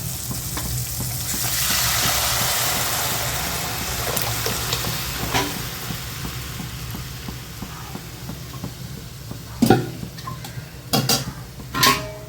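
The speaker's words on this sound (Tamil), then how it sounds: "இப்போ குழம்பு எடுத்து ஊற்றிடலாம்" Spicy fish kulambu is poured into a hot pan, setting off a loud rising sizzle that fades into steady frying, followed by several sharp clinks and scrapes of utensils against the pan.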